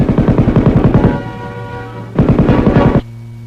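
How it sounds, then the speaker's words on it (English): M60 machine gun firing belt-fed automatic bursts, loud and close: a rapid, steady hammering rhythm that stops, leaves a low ringing hum, then resumes in a second short burst. "a potent automatic weapon capable of delivering a close, continuous volume of fire"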